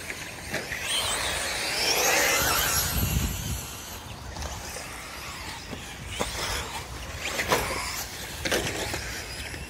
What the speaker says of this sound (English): a clip of me running my Bandit on an outdoor dirt track